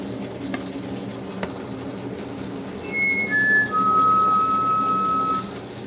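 A short rising whistle, a few clear pitched notes climbing and then holding steady for a second or two, heard over a steady background hum in a glassblowing studio.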